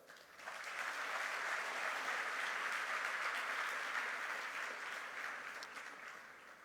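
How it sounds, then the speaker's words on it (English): Steady, even round of audience applause at a formal event, rising quickly, holding dense and full for several seconds, then easing slightly toward the end, with no talking. "Let's give them a good round of applause"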